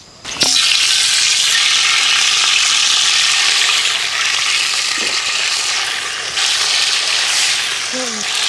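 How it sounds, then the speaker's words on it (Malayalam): Masala-coated pearl spot fish dropping into hot coconut oil, bursting into a loud, steady crackling sizzle right after a brief quiet start, continuing close and dense throughout. "നമുക്ക് മസാല തേച്ച് വെച്ചേക്കുന്ന കരിമീൻ അതിലോട്ട് ഇട്ട് കൊടുക്കുക."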